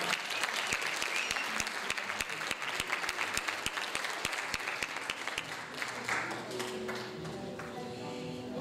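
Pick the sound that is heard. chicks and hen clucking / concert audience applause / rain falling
concert audience applause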